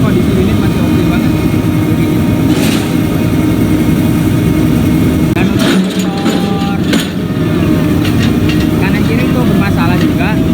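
A rotary drilling rig's diesel engine runs loud and close with a steady heavy drone, while someone talks over it.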